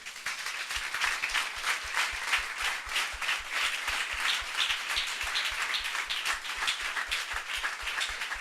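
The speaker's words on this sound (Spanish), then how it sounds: "¿Le puedes dar un aplauso al Señor?" Church congregation applauding steadily throughout, a dense, even wash of many hands clapping at close to moderate distance, with no voices rising above it.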